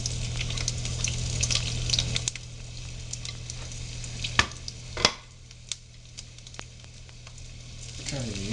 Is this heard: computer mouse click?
no